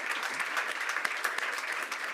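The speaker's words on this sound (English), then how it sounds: "A big round of applause, because they have put on an amazing show." Audience applause at a whisky forum session in Stauning, a steady dense patter of many hands clapping throughout, moderately loud with no voices over it.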